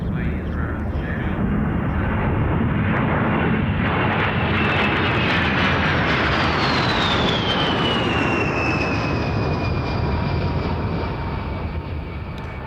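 A B-52 bomber flies past at the RIAT 2002 air show at RAF Fairford, a loud, sustained jet-engine roar whose whine rises and sweeps downward as it passes, with a crowd murmuring underneath.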